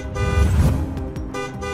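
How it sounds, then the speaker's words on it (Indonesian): A car horn blares loudly and continuously on a street beside a funeral gathering, a single sustained honk with a brief waver near the end. "malah klakson-klakson kayak gitu"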